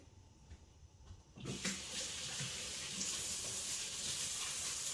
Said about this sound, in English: Gotta wash your hands though, because them onions.